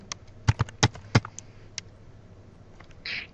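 Several sharp keystrokes on a computer keyboard tap out quickly near the start, entering a medication name into a hospital records system, then fade to quiet room hiss.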